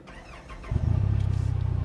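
A Polaris Ranger Crew XD 1500 Northstar side-by-side engine cranks and catches, then settles into a loud, steady, throbbing idle close by, with no talking over it.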